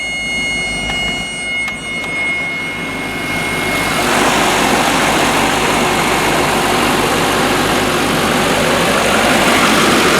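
A convertible car's engine cranks and fires up on a warm day, then settles into a steady, loud idle around 1,000 RPM that runs continuously alone to the end.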